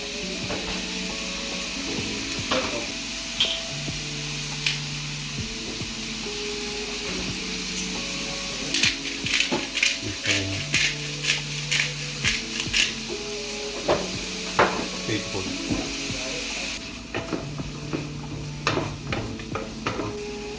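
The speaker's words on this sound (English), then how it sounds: "green peppers inside of some oil. Let them saute a little bit." Onions and green peppers saute in oil on medium-high heat, a soft continuous sizzle broken by repeated clacks and scrapes of a utensil against the pan, with short tonal tones in between.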